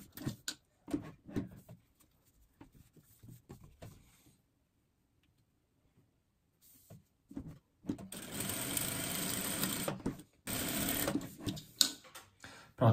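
A sewing machine runs in a long stitching burst, joining small fabric scraps along a marked straight line, with a short pause before a second run; quieter handling noises come before it.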